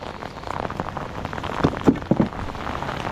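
Steady rain falling around a river dock while fishing in Florida, a continuous patter with a few sharper drops and splashes standing out, and no one speaking.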